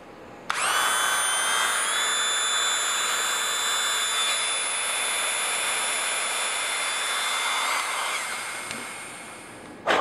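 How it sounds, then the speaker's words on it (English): A Dremel rotary tool fitted with a carving attachment grinds down an STI Trojan pistol grip, a steady high-pitched whine running loud and continuous for most of the stretch before trailing off near the end. "I've got a carving attachment on my Dremel, so I'm just going to go to work here and start trying to work this down"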